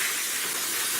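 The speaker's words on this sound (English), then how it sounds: "I'm just taking some parts cleaner here." Aerosol parts cleaner sprays in one steady, close hiss on an engine-building bench, with no pauses and no voices.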